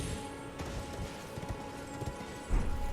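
Horse hooves clip-clop steadily in the video game Elden Ring, a continuous trotting patter at moderate loudness with a heavier thud near the end, alone with no talk.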